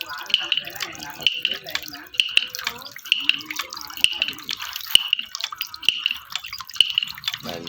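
Water drips and splashes at a wooden water wheel, with sharp, fairly regular knocking drips about once a second over a faint background of running water, and someone talking intermittently.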